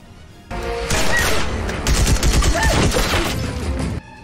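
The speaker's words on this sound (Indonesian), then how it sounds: "dan akhirnya saling tembak pun terjadi" Loud gunfire exchange between soldiers in a war film, a dense burst of rapid shots and booms filling most of the clip, close and sustained.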